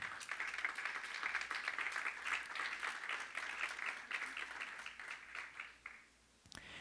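A church congregation claps together in a steady, rhythmic beat for several seconds, somewhat distant and moderately loud, then the clapping fades and stops near the end.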